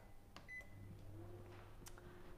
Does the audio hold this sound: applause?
no